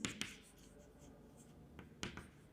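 Chalk or marker scratching on a board in a physics lecture, a few short quiet strokes with sharp taps at the start and near the end.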